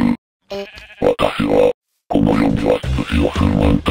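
Short nasal sheep bleats from Minecraft come in a few quick clipped bursts, loud and close, separated by brief gaps of silence.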